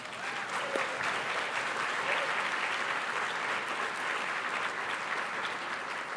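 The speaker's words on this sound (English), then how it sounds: "please give them a round of applause" Steady, dense applause from a conference audience at a scholars' panel meeting, sustained evenly throughout without a break.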